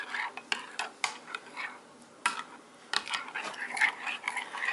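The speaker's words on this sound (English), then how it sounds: "we're just going to mix it together" Oil and beaten eggs being stirred into a strawberry pecan loaf batter, giving soft, irregular scraping and clinking strokes of a utensil against a bowl, quiet and close.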